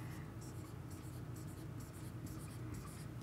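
A pen scratches out quick, repeated short strokes while drawing pizza slices during a first-grade math lesson, faint and close, with a soft steady background hum.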